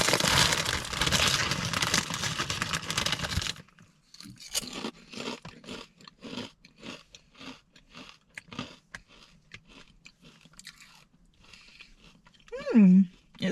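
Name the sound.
crunching vodka sauce pizza flavoured crisps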